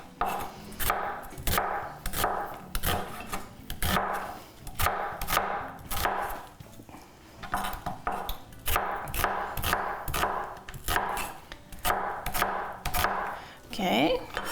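A knife cuts onions into big chunks on a board, heard as a fast, even run of crisp chopping thuds that repeats in close bursts with short pauses, with no speech.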